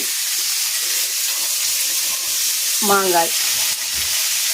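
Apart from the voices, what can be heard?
mango sautéing in Dalda with tomato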